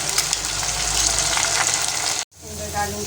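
Tomatoes and green chilies hit browned onions in hot oil for a potato and chickpea biryani, giving a loud, steady sizzle and hiss that cuts out abruptly near the end, then resumes more quietly.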